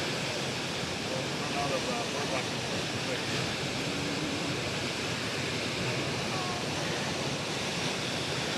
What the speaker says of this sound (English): this is Minnehaha Falls right here